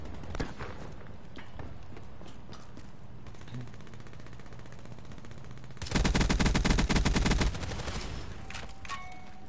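Gunfire in the Call of Duty Black Ops III video game, a mix of shots and ambient game sound leading into a loud sustained automatic burst lasting a couple of seconds.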